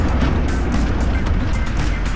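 A truck driving off-road gives a loud, continuous rumbling engine noise mixed with rattling and rough clatter, close by and steady throughout.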